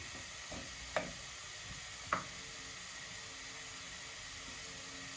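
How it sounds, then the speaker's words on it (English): Onions frying in a pan, a steady soft sizzle with two brief clinks of a utensil against the pan, faint and close. "as we fry down the onions"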